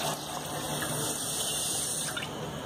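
Water pours in a steady close stream onto 750 g of sugar in a bowl for green mango syrup, a continuous splashing fill with no voices.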